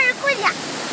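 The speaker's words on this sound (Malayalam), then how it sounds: "കണ്ണൂർ ജില്ലയിൽ പാണപ്പുഴയിൽ കാരക്കുണ്ട് വെള്ളച്ചാട്ടം" Karakkund waterfall at Panapuzha in Kannur district gives a steady, broad rushing roar that fills the whole second, with a brief voice heard faintly near the start.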